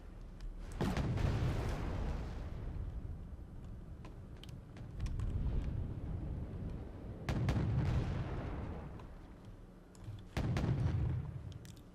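Artillery fire in the video game Wargame Red Dragon: several heavy booming blasts, each with a long rolling rumble that fades over a few seconds, fairly distant and subdued with no talk.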